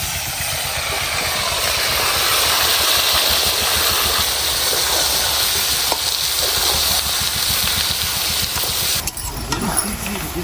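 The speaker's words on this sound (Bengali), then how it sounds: "এই যে মাংসটাকে ম্যারিনেট করে রেখে দিয়েছিলাম সেটাকে কড়াইতে দিয়ে দেব" Marinated mutton hits a kadai over onions on an outdoor clay stove, producing a continuous close sizzle with a low rhythmic rumble underneath and a brief shift near the end.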